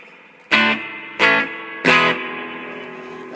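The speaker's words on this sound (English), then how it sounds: "you got a little spring reverb here." Electric guitar played through a Crate GX-60 amplifier with its spring reverb set about halfway: three loud, bright strummed chords, each followed by a splashy reverb tail that rings and decays between strums, with no talking.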